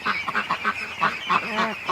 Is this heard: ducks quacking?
yes